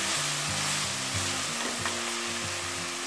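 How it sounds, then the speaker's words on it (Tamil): Tomatoes with ginger garlic sautéing in a pan for rajma masala, a loud continuous sizzle with repeated rhythmic scrapes of stirring. "தக்காளி நல்லா சாஃப்ட் ஆகணும் அந்த அளவுக்கு வந்து வதக்கி எடுக்கணும்"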